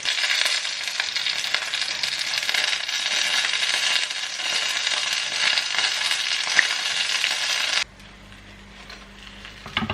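Börek pastries fry in a pan with a steady, close crackling sizzle that runs for most of the clip, then suddenly drops away to a quiet background hum.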